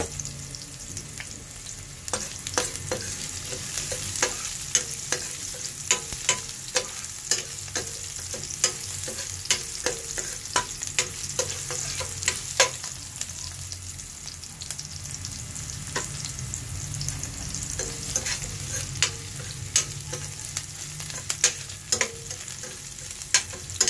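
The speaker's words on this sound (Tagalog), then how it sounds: "Haluin lang natin to guys hanggang sa mag-brown ang bawang at saka yung sibuyas at luya" Garlic, onion and ginger sizzle steadily in a frying pan, with a constant crackle broken by frequent sharp scrapes and taps of a spoon stirring them, close and moderately loud with no talking.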